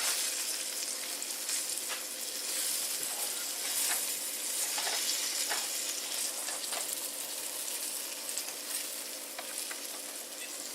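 Breaded green tomato slices frying in a shallow layer of oil in a pan, a steady close crackling sizzle with scattered pops, continuous for the whole stretch and heard alone.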